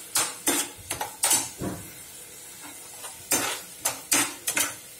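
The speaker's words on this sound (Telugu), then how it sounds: "ముందుగా బ్రింజాల్ వేసేసుకున్నాం, కొంచెం ఎరగాలండి" Brinjal frying in a pan for a brinjal-tomato curry, mostly a series of sharp clinks and scrapes of a utensil against the pan in uneven bursts, over a faint hiss of cooking.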